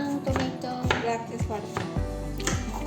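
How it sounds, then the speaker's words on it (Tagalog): A knife chopping tomatoes on a cutting board while cooking grilled fish, Arabic style, several firm, evenly spaced thuds of blade on board, close and fairly loud with no talk. "masipag si Sita maghiwa ng tomato."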